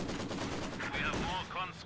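A machine gun fires in Company of Heroes 2 amid a dense battle mix, rapid bursts under a narrator's voice, brief and moderately loud.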